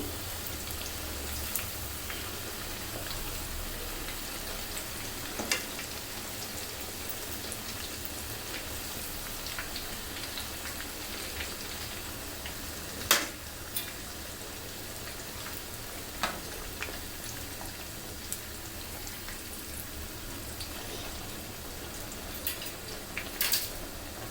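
Lachha semai vermicelli fries in oil, a soft, continuous sizzle with scattered faint clicks and taps of a utensil, quiet and steady throughout.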